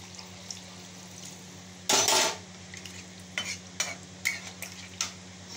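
Fried potatoes being stirred into spices in a pan for dhoka curry, with a soft steady sizzle, one loud scraping stir, and then several short clinks and scrapes of the spoon against the pan.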